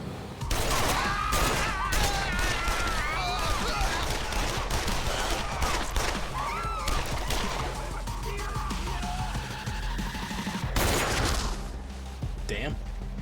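Six guns blaze away at two men in Yakuza: Like a Dragon, a dense, loud volley of rapid gunfire that runs almost without pause and ends in a final burst, with voices talking over it.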